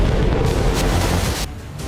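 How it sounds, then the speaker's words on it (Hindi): Heavy, rumbling booms of artillery firing during military training at high altitude in eastern Ladakh, loud and close, with deep blasts rolling one into another before a brief lull. "तोपों से आतिशबाजी की जा रही है।"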